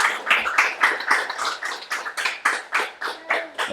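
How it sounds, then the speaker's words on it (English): A small group claps in a steady, even rhythm of distinct bursts, fairly soft and slightly distant, with almost no talking. "They were clapping at the time."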